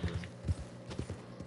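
Horse hooves clip-clopping in Red Dead Redemption 2, a few uneven hoofbeats close by over a faint low background hum, with no talking.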